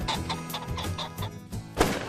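A rooster pheasant flushes during a South Dakota hunt, giving a run of harsh, rhythmic cackling calls at close range that end in a louder burst.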